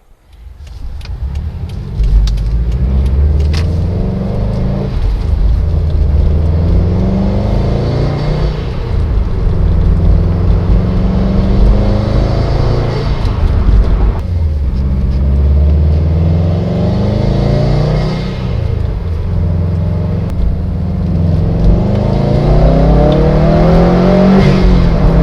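A 2015 Subaru STI engine fitted with a Mishimoto cold air intake revs and accelerates repeatedly, its pitch climbing through the gears in several surges, loud and close with a throaty intake roar.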